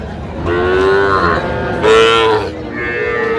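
A young Sahiwal bull calf moos several times up close at a cattle market, with long, drawn-out calls rising and falling in loudness, and no one speaking.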